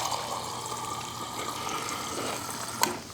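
Water runs steadily into a container, a soft, continuous rushing and gurgling. It is fairly quiet and close, with one small knock near the end and no voices.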